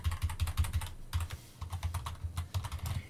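Someone types quickly on a computer keyboard, with rapid close clicking keystrokes in bursts and a short pause partway through.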